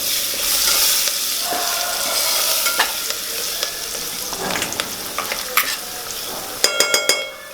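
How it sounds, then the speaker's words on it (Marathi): Coriander leaves fry with chicken in a pan for a Maharashtrian chicken sukka, giving a loud, steady sizzle. Stirring scrapes run through it, and a rapid series of spoon taps against the pan comes near the end. "कोथिंबीर मिक्स केल्यानंतर ती थोडी भाजून घ्यायची आहे"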